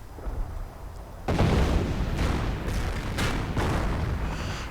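Artillery fire in a World War II real-time strategy game, Company of Heroes, with US and Wehrmacht forces: a heavy boom lands after a quiet start, then further blasts and bursts follow across the mix at loud, close range.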